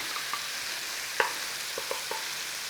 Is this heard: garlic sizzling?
yes